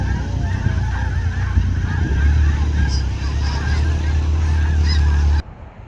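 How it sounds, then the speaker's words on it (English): A large flock of snow geese in the Skagit Valley fills the air with a dense, constant chorus of overlapping honks while taking off, loud and steady before cutting off abruptly near the end. "Very pretty goose called the snow goose."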